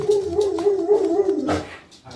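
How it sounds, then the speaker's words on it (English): Dogs carry on in the background with a close, wavering whine and howl that holds steady, then breaks into a short yelp near the end. "my dogs are barking in the background"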